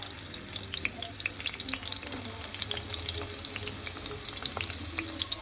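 Chopped onion dropped into hot oil for stuffed ridge gourd, giving a steady, close sizzling and crackling with occasional sharp pops and stirring, no talking.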